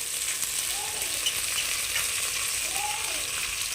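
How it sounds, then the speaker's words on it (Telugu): Onion, mint and ginger garlic paste fry in a hot pan for vegetable pulao, giving a loud, continuous close-up sizzle with no talking. "అల్లం వెల్లుల్లి పేస్ట్ వేసుకోవాలి అది పచ్చివాసన పోయేదాకా మనము ఫ్రై చేసుకోవాలి"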